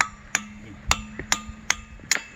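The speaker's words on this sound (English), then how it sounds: "You have to hammer it in. The rebar doesn't go in that easy." Steel rebar being hammered into a hole drilled in a fake rock by a pond, heard as about six sharp metallic strikes at an even pace, each with a short ringing tone, close and without talking.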